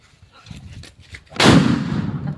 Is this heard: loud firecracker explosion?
yes